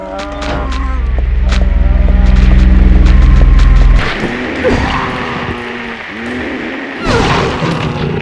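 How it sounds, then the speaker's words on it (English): A video game enemy lets out a loud, drawn-out, unnatural groaning bleat like a demonic sheep, followed by shorter distorted grunts and thuds. "It sounds so unnatural, like some kind of demonic sheep."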